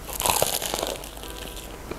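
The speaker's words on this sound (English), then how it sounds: "But did you hear that crunch?" Biting into a homemade croissant gives several crisp, flaky crunches close to the microphone, sharpest near the start and then fading into softer crackling chews.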